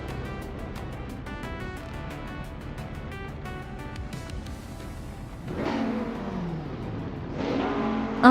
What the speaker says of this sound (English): The race has just kicked off at the Forlì Ring Indy track.